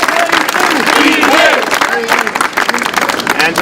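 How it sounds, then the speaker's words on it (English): A crowd at a political endorsement event claps and cheers for a city leader, with loud clapping mixed with voices and shouts over it. "Let's give him a round of applause."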